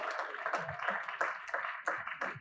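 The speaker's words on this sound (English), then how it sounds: "A round of applause for Aproko Doctor" An audience at a children's day media symposium gives a round of applause, with fairly close, uneven clapping from a modest group, individual claps standing out in a loose rhythm.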